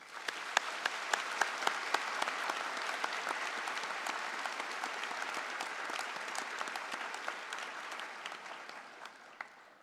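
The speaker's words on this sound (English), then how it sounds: "join me in a round of applause for all the faculty and the staff to help you along the way" Graduation ceremony audience applauds at length, a steady wash of many hands clapping that sounds somewhat distant and gradually fades toward the end.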